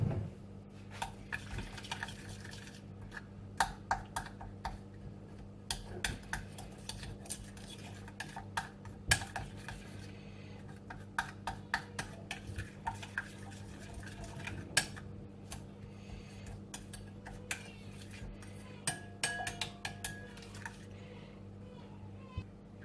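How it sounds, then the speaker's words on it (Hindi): A spoon clinks and scrapes repeatedly against a bowl while chicken is mixed with peri peri sauce, with a steady low hum underneath and no talking. "इसको कर लेते हैं अच्छे से मिक्स"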